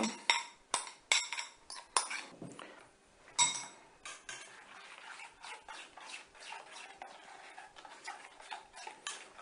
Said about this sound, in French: je mélange cette rouille ici à ma mayonnaise